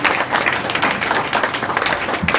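Loud, dense applause from a crowd at a school uniform and supplies distribution event, steady clapping throughout with no voices standing out.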